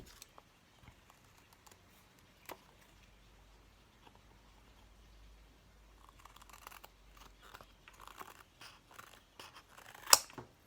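Scissors work slowly through thick packaging cardboard, quiet scattered snips and rustles that grow busier toward the end, closing on one sharper, louder cut.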